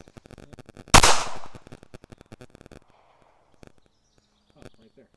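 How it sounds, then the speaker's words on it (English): A single sharp, loud shot rings out from a Ruger LCP Max pocket pistol at a range, followed by faint clicks and handling noises. "let's go ahead and throw 10 rounds down range"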